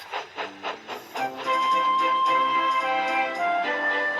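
A storybook steam engine, Percy, chuffs off with a quick rhythmic puffing that builds into a steady, busy running sound joined by a sustained whistle-like tone, close and moderately loud with no talking.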